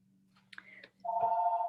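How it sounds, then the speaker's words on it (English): An office telephone rings with a steady electronic bell tone, loud and continuous for most of the short stretch after a few faint background noises. "There's a phone ringing in the background."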